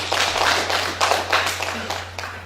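Audience applause at a silver-prize award ceremony of a national poetry recitation contest, a dense, steady burst of many hands clapping for a couple of seconds over a low hum.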